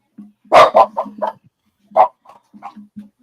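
A dog barks several times close by, a cluster of sharp barks followed after a pause by a few more softer yips and whines.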